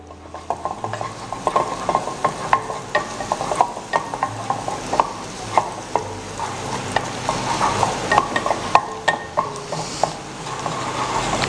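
Minced garlic sizzles in hot oil in a pan while a utensil stirs it, producing steady frying crackle punctuated by repeated scraping clicks against the pan.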